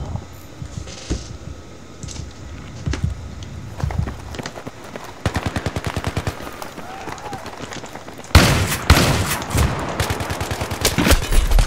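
Bursts of gunfire in the shooter game Battlefield 3, with rapid automatic volleys and single shots over fast running footsteps, growing louder and denser near the end; someone talks over parts of it.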